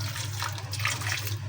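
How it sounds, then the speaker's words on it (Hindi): Water poured steadily into a cooking pot of meat for Peshawari rosh (namkeen gosht), a continuous close splashing stream with a low hum beneath it. "अभी इसके अंदर जाएगा पानी।"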